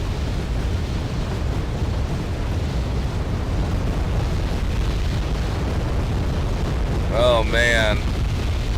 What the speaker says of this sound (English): Enemy Katyusha strike.